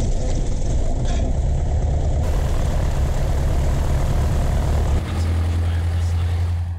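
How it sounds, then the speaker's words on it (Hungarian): Propeller training aircraft taxiing toward a runway, heard from the rear seat as a loud, steady engine and propeller drone that drops to a lower idle near the end, with a voice speaking over it. "Beültünk a tanuló repülő hátsó ülésére."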